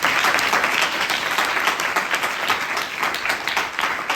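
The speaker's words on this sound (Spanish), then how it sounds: "creo que se merece un aplauso" An audience at a school event in Marín breaks into steady, dense applause, many hands clapping continuously at close range with no break, loud and sustained.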